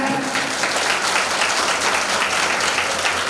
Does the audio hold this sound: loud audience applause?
yes